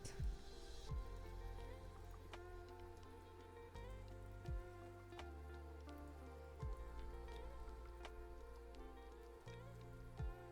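Steady rain patters through a lo-fi music soundtrack, soft drops running continuously beneath mellow chords and bass at a low, even level with no voices.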